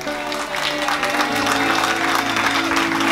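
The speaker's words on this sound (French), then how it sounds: "Acclamez pour la parole de Dieu" A church congregation applauding with loud, sustained, dense clapping that fills the space. A faint steady tone hums underneath.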